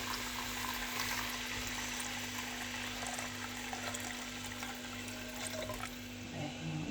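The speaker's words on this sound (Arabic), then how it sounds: "نبداو نصبوا في الماء، لازم يكون سخون" Hot water slowly poured into a pot with hot oil while cooking Tunisian mloukhia: a steady, close bubbling, gurgling wash of liquid that continues unbroken throughout.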